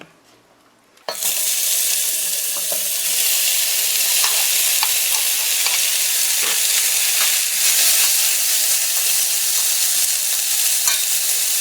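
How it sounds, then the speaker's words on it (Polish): After a brief quiet start, a loud, steady sizzle of leek and onion frying in hot oil fills the clip, with occasional pops and the scrape of stirring. "dodam odrobinę oleju i dorzucę teraz pora i cebulę."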